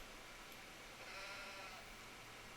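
A sheep bleats faintly in the Farming Simulator 25 video game on a Montana cattle ranch, a single soft drawn-out call over a hissy, steady background.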